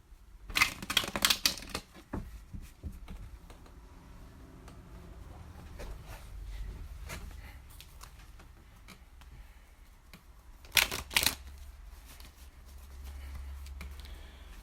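Two quick bursts of playing cards being shuffled, rapid riffling clatter near the start and again later, with quiet handling noises between.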